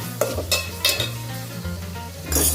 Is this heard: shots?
no